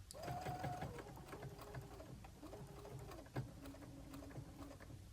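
A sewing machine runs in several short bursts, stitching a fabric strip with a quarter-inch seam for an art journaling bag, its fast mechanical whirring fairly quiet and close with brief pauses between runs.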